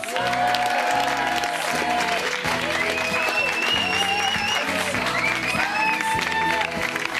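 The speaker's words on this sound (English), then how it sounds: "Please make loads of noise for Bjorn" Sustained studio audience applause and clapping on The X Factor 2006 runs throughout, mixed with loud rhythmic music playing underneath.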